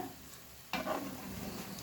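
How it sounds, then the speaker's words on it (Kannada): Quiet background, then a sudden burst of sizzling as partly cooked broiler chicken hits hot tempering oil, crackling on steadily afterward. "ಈಗ ನಾನು ಈ ಒಗ್ಗರಣೆಗೆ ಇಲ್ಲಿ ಮುಕ್ಕಾಲಷ್ಟು ಬೆಂದಿರುವಂಥ ಚಿಕನನ್ನು"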